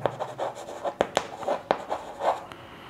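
A pen scratches across paper while a math problem is worked out by hand: soft, close scribbling strokes in uneven short bursts with a few sharper taps, and no talking.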